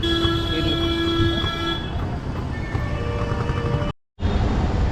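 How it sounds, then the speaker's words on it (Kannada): Loud rumbling train at a railway station, with metallic squealing wheels and ringing tones, close by, continuous for several seconds before a brief cut. "ನಾ ರೈಲ್ವೆ ಸ್ಟೇಷನ್ ಸಮೀಪ ಬಂದೀನಿ"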